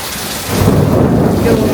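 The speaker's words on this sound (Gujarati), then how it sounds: "મસ્ત ગાજે છે ને" Thunder rumbling during a heavy rainstorm, a deep roll swelling in partway through over steady loud rain hiss, no voices.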